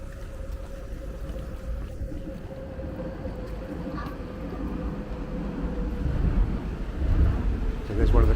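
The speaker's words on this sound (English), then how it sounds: "There's one of the trains going across." A Docklands Light Railway train passes on the elevated line near Cable Street between Tower Gateway and Shadwell in London, rumbling with a steady electric whine over low mechanical noise, growing louder and rougher toward the end.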